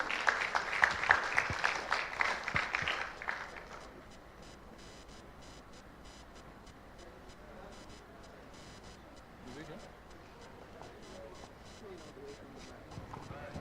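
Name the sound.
audience applause welcoming a conference speaker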